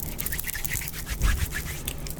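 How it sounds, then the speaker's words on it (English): Quick, rhythmic bristle strokes swish through hair again and again, close and fairly soft, with no talking. "Let's brush again. Just a little bit of the brush."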